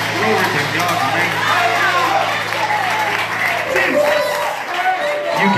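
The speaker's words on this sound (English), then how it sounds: "I said clap your hands." A church congregation claps along during an energetic Pentecostal-style worship service, steady crowd applause filling the room with voices and music mixed in throughout.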